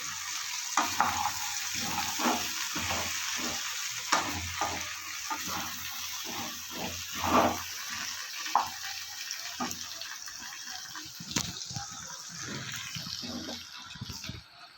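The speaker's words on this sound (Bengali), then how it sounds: "এবার একটু জল দিয়ে দেবো যাতে সবজিগুলো ভালো করে সিদ্ধ হয়ে যায়" Water is poured into a pan of sautéed vegetables, and hissing, bubbling sizzle with occasional splashes and stirring scrapes carries on steadily nearby.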